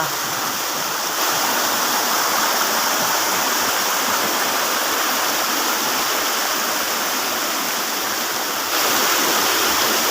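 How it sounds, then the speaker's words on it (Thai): A forest waterfall and stream in rural Thailand pour in a loud, close, unbroken rush of white-noise water that stays constant from start to finish. "น้ำไหล"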